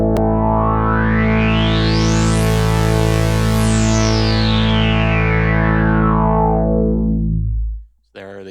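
A sustained, buzzy chord from a Sequential Take 5 synthesizer sweeps as its resonant low-pass filter opens wide and then closes again, loud and continuous for several seconds before cutting off.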